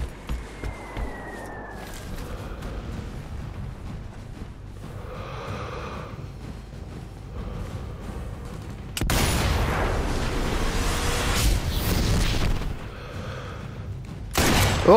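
Gunfire in the video game Sniper Elite V2 Remastered: bursts of shots and booming blasts through a shooting gallery in a derelict town, loud and dense, rising to a sustained roar of fire partway through.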